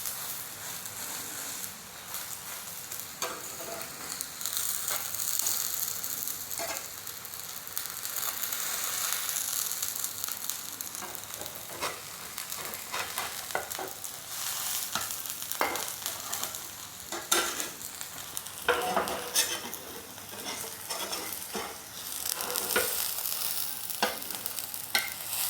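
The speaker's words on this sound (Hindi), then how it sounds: "और थोड़ा सा सिक जाने देंगे और उसके बाद इसको फिर पलटेंगे" An eggless bread omelette fries steadily in a pan with a constant sizzle. Frequent scraping and clicking from a spatula punctuate it, fairly close and with no talk.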